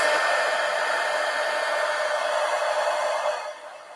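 A hair dryer runs steadily while drying painted stars, a constant close airy whir that holds level for several seconds, then drops lower as it is moved away or switched down.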